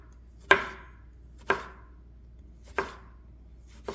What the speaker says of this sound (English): we slice the clementines with the skin